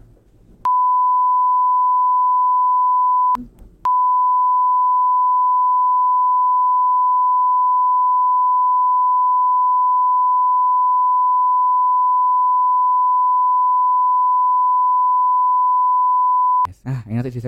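A loud, steady censor tone covers a spoken phone number, a short beep followed by a brief gap, then one long unbroken tone lasting over ten seconds, with muffled talk just before and after.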